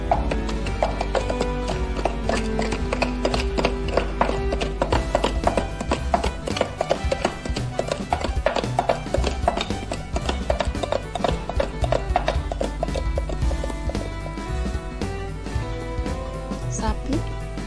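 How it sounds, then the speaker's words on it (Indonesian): A horse's hooves clip-clop in a steady, even rhythm, moderately loud and mixed with continuous background music. "kuda"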